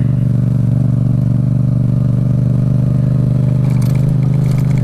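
A Yamaha Tracer motorcycle climbs a hill off-road in second gear, its engine droning loud and steady at close range with a constant low rumble and faint clatter, no voices.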